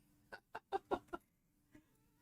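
A chicken clucks in a quick burst of five sharp, fairly close calls, then one softer cluck after a pause, in an otherwise quiet room with no talking.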